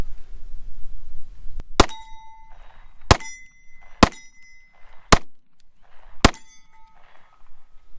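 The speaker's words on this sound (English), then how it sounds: "that was actually hitting the steel right in the center at 20 yards" Five sharp Ruger Max 9 pistol shots spaced about a second apart, each followed by a ringing metallic clang as rounds strike steel targets 20 yards away, with faint echoes between shots.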